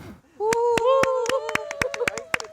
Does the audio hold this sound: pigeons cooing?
no